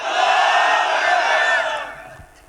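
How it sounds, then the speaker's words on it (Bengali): A large crowd at an Islamic sermon gathering shouts the takbir, Allahu Akbar, in one loud unison chant that holds for about two seconds and then fades away. "নারা তাকবীর ধরো, সবাই আল্লাহু আকবার দিবে"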